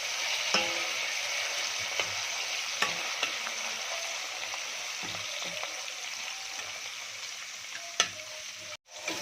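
Minced garlic sizzles in hot oil with browned onion in a pan for fish rice, with a steady bright crackle broken by several sharp scraping stirs of a utensil against the pan.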